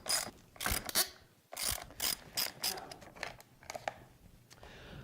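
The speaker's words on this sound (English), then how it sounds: "Mine just takes some Allen wrenches." Allen wrench work on a motorcycle hand guard, heard as a series of sharp ratcheting clicks and metallic taps in short bursts, close and fairly loud, with no talking.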